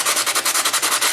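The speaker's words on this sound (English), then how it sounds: "just a really rough sandpaper to take that off of there right quick" Rough 60-grit sandpaper is rubbed hard over a part during a TRS-80 Model II keyboard repair, giving quick, evenly spaced back-and-forth scratching strokes, loud and close with no talk.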